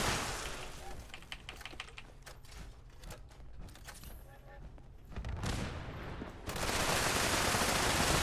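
Gunfire in Fallout 76, a burst of rapid sharp shots followed by a louder sustained blast of noise near the end.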